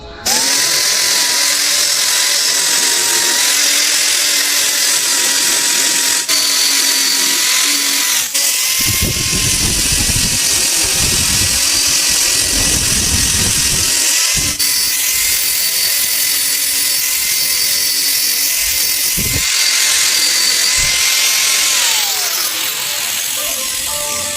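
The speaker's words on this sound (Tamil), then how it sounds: "இதுக்காண்டி கிரைண்ட் பண்ணி எடுத்துக்கிடுவோம்" A power tool grinds steadily and loudly for the whole stretch, with a harsh, high whine that dips and surges as it bites into metal.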